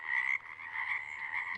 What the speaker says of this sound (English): he would listen to the big green frogs singing back and forth